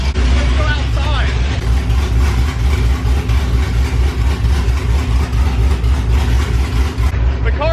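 A straight-piped drag car engine idles around 900 to 1,000 RPM outdoors, a loud, lumpy low rumble with steady pulsing, while a person talks over it.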